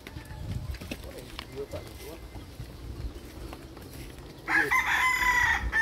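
A rooster crows loudly and close near the end, a long rising call, after quieter moments of clucking birds and faint background voices.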